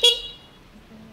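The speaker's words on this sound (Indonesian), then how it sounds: "dan tombol klakson" A single short beep from the horn of a Volta Virgo electric scooter, sharp and close at the start, then fading quickly into near silence.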